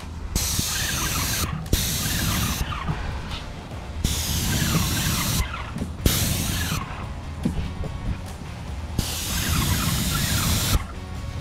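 An airless paint sprayer fitted with a 212 tip blasts paint in repeated loud, close hissing bursts separated by brief pauses, with no talking over it.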